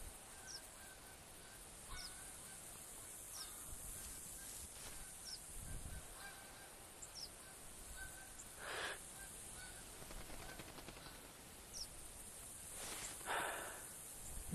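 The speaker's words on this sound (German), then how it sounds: "da haben wir die ersten Gänse hier, die jetzt kommen" Geese honk repeatedly as they fly in over a hunting area in the game theHunter (2014), with scattered calls at moderate distance over quiet ambient background and no speech.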